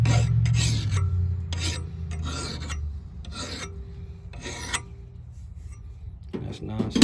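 A hand file rasps along the edge of a trail knife blade in a series of separate strokes with short pauses between them, close and crisp, and someone speaks at the start.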